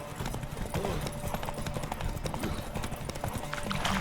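Horse hooves clip-clopping at a fast gallop in The Witcher 3, a steady rapid rhythm of hoofbeats close by, with a brief whinny and faint game ambience underneath.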